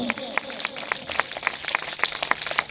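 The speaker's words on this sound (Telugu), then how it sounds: "చప్పట్లు కొట్టి దేవుని మహిమ పరుద్దాం." A church congregation at a Christmas gathering claps hands in a quick, even rhythm of sharp, close claps. The clapping runs without a break for the whole stretch.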